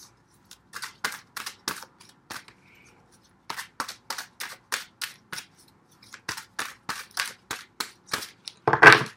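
Oracle cards shuffled in a quick burst of crisp riffling flicks, repeated in rhythmic clusters close by with short pauses between, ending in a louder rustle.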